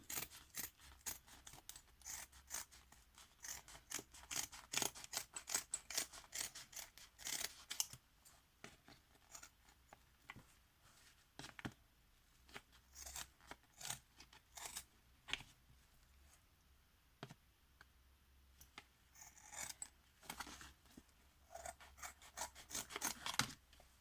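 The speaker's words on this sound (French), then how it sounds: "je viens couper le surplus" Scissors cutting excess tissue paper, a long series of close, crisp snips and rustling paper strokes in irregular bursts with brief pauses, quiet room, no talking.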